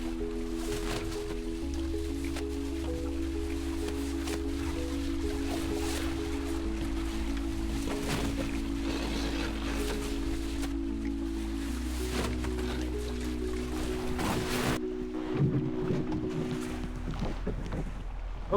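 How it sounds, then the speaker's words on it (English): Choppy waves slosh and splash against a small sailboat running under a gennaker, a continuous wet churn mixed with wind rush and a steady low mechanical hum. "Lots of waves today."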